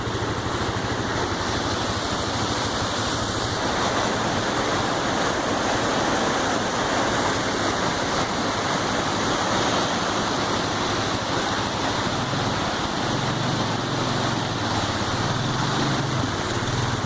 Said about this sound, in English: So we took all 4 vehicles and we forded the river.